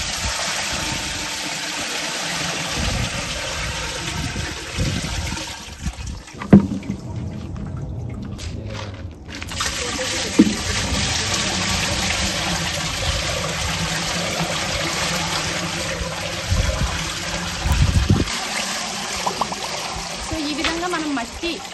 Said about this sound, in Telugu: దీన్ని మేము 500 లీటర్ల ట్యాంకులో పోసుకుంటాం వడగట్టుకుంటూ